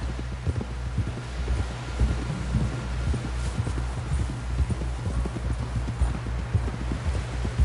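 Video game horse hooves galloping in a steady, rapid rhythm of close, thudding clip-clop beats over a low hum, continuous for several seconds with no talk.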